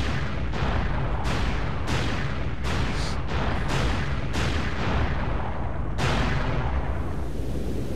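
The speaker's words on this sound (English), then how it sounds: "There's Prison Island as it explodes in flames" Prison Island blowing up in flames in Sonic Adventure 2 Battle, heard as a steady run of loud, booming explosions that hit about every half second and rumble on without pause.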